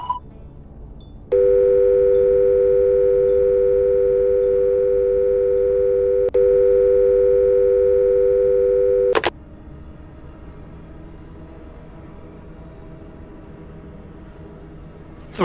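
A steady telephone dial tone sounds for several seconds from a handset in a short horror animation, loud and unbroken apart from one brief glitch, then cuts off abruptly, leaving faint room noise.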